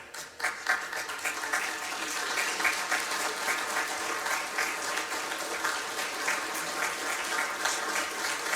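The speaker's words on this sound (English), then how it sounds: "we want to give you an applause" At a Veterans Day event in Bella Vista, Arkansas, the audience claps for a veteran named Charlie, a steady, full round of applause from a sizable crowd that carries through without speech.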